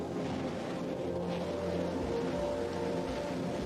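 A Rocket Lab rocket lifts off from its launch pad with a continuous, dense roaring rumble, broad and steady for the whole stretch, heard alone.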